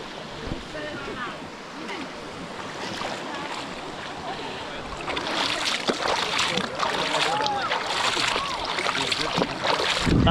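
Water sloshes and splashes in La Hacienda Park's river during a buggy ride in the Dominican Republic. The churning turns louder and denser halfway through, mixed with engine rumble and people talking.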